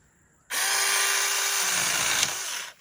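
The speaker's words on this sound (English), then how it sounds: "I have never used a chainsaw in my life, so we'll see how this goes." A Saker electric mini chainsaw whirs up abruptly, runs steadily for about two seconds with its pitch dipping as it bites into a branch, then cuts off.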